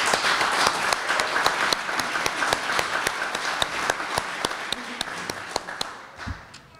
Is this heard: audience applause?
yes